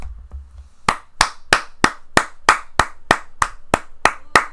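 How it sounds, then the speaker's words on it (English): A single person claps hands in a steady, even rhythm, about a dozen sharp claps after a brief quiet start, close and alone. "That's what you heard is me applauding the game."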